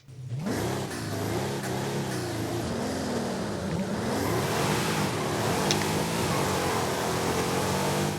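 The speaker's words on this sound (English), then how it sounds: "let's go ahead and take a listen to that 6-litre Mercedes engine" A Mercedes-Benz SL65's 6-litre engine revs loudly and steadily in the Forza Horizon 5 racing game, rising and falling in pitch as the throttle is worked, with a continuous roar throughout and no talk.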